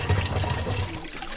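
Fresh water from a village borehole supply in rural Rwanda flows steadily in a continuous close, rushing stream, alone with no talk.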